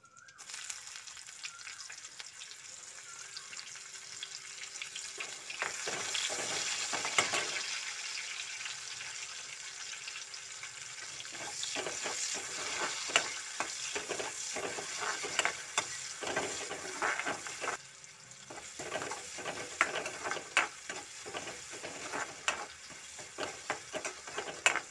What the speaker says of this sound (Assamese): এতিয়া আকৌ এই চব্জিখিনি মই এতিয়া ফ্ৰাই কৰিম